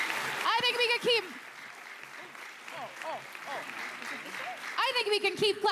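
An audience at the 2023 Summer Solstice Indigenous Music Awards claps for a band, moderate applause running beneath a host's voice that speaks at the start and end.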